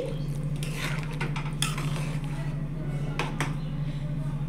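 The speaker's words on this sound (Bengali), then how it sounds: "তো চলো এবার এটাকে আবার একটু মিশিয়ে দিচ্ছি।" Potato dum curry with tomatoes stirred in a pan, a few scraping and clattering strokes of a spoon over a steady low hum, with a voice faintly present in the background.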